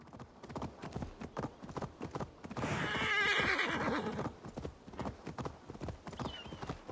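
A horse's hooves clip-clop at a steady gait in Assassin's Creed Valhalla, then a loud neigh rises in the middle before the rhythmic hoofbeats resume, with no talk.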